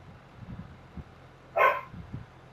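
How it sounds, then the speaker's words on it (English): A single sharp dog bark rings out from an outdoor work site, standing clearly above a low background rumble of movement and muffled activity. "dogs barking."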